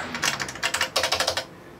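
Quick, clacky keystrokes on the keyboard of a 1988 IQ2000 MSX2 home computer, a rapid uneven run of close, crisp clicks that stops abruptly, with no voice over it.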